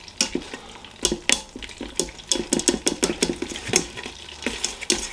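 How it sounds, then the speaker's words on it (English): A plastic-coated whisk stirs melting butter in a pot, giving quick repeated scraping taps with a soft sizzle under them, close and steady throughout. "Just whisk the butter around just to help it"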